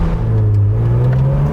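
A classic Porsche 911 with a 993 3.6-litre engine swap and GT3 exhaust revs hard, heard from inside the car as a loud, steady engine drone climbing slightly in pitch, with no talking.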